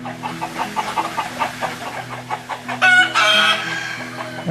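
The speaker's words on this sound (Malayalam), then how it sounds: "വിവിധ ഇനം പക്ഷികളെയും കോഴികളെയും താറാവുകളെയും ബോബൻ വളർത്തുന്നുണ്ട്." Farmyard chickens cluck in a quick, irregular series of short calls, then a rooster crows loudly and close near the end, with no talking.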